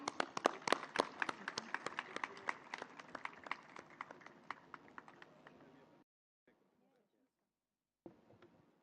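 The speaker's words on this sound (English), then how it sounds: "A big round of applause for Mr. Irfan Wahid." Audience applause at a Greenwich University convocation, a dense crowd of clapping that runs steadily for about six seconds, then drops to near silence before a short burst returns at the end.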